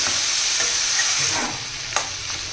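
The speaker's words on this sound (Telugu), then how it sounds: "ఇప్పుడు మనం కట్ చేసి పెట్టుకున్న ఈ కంద వేసేయాలి ఒకసారి బాగా కలపాలండి" Pieces of elephant foot yam get stirred into softened onions in a hot pan, a loud sizzle with scraping spoon strokes and a sharp knock near the end, close and without talk.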